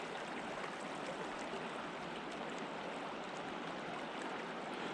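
A mountain river rushes steadily across the Wind River trout water, its broadband flow constant and fairly loud for the whole stretch, with no voices over it.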